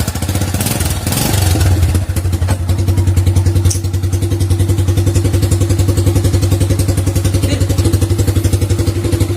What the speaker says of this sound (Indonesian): Kalau untuk kondisi mesin dingin, suaranya bersih, nggak ada kemlecek atau apa segala macam ya.